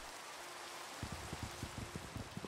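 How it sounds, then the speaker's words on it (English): Rain falling in the video game Minecraft, a steady hiss with soft drops pattering on surfaces, joined after a second by a run of rapid low thumps close by. "This rain looks so nice, let me survive for a minute so I can look at it."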